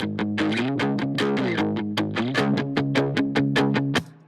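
Heavily distorted electric guitar driven hard through an amplifier, playing a steady run of loud, evenly spaced chugging strums with thick sustained harmonics, each hit sharply attacked, ending abruptly after about four seconds.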